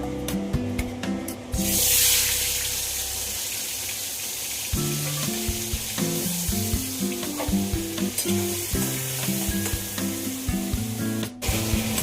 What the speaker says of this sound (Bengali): এবার চিংড়ি মাছগুলোকে আমি একটু হালকা করে ভেজে নেব